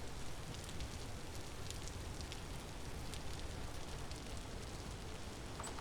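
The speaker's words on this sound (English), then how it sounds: "Oh, it's raining." Steady rain falls outside in a game world, a soft continuous patter and hiss with scattered drop ticks, even and unbroken throughout with no voices.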